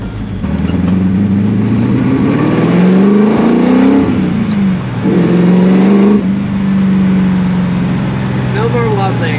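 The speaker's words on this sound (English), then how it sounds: "So back to road testing the GT40." A small Ford GT40 sports car's engine drones steadily from inside the cabin on a speedway, rising and falling in pitch as it accelerates and shifts, with someone talking over it.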